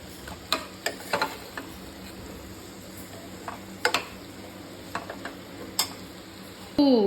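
A dry vegetable curry cooks in a pan under a faint soft sizzle, broken by sharp scattered clicks and scrapes of a spoon against the metal, close by and with no voices.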